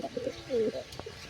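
A small pigeon chick coos softly at close range in a breeding loft, a few short wavering coos with a faint squeak near the end, heard alone with no talk.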